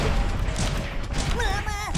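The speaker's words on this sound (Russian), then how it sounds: "Мне нравятся эти ракеты" Homing rockets explode in the mobile game Kick the Buddy, a quick burst of rapid blasts over busy, chirping game effects, with a voice speaking at a low level.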